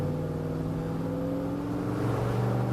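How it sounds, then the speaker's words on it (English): A car with a GM 700R4 automatic transmission pulls away under light throttle, its engine drone steady and close as it climbs through gentle upshifts, the pitch rising a little near the end. "Start with some light throttle upshifts and feel for the 1-2"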